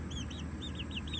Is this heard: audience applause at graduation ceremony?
no